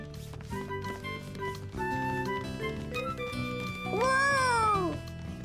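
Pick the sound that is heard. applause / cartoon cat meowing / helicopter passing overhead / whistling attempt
cartoon cat meowing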